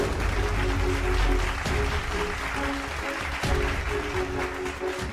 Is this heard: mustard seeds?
no